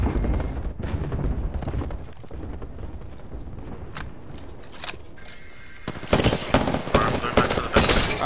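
Rapid gunfire from the Apex Legends battle royale game, with dense bursts of shots and impacts that grow louder and sharper in the final seconds over a busy background of game sounds.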